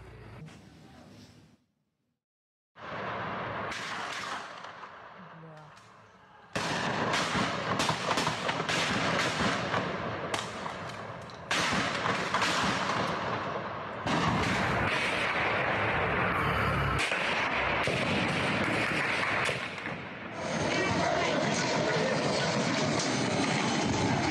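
Gunfire from automatic weapons during a clash between rival passenger carriers, caught in amateur footage: loud, dense bursts of rapid shots with a brief silent gap early on, continuing steadily to the end, with no speech.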